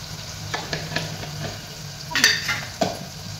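Onions, tomatoes and other ingredients for khichdi sauté in a hot pan, a continuous close sizzle broken by several scraping stirs and a couple of utensil clinks against the pan, with no voices.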